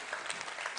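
Conference audience applauding after a talk, a dense steady wash of many hands clapping close by, filling the whole moment with no voices on top.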